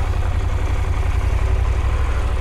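A KTM 890 Adventure motorcycle engine idling nearby, a steady low rumble that holds even and continuous throughout, with no revving or talk.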